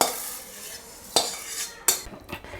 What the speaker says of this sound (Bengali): এবারে আমি ডালটা ঢেলে নিচ্ছি একটা পাত্রে।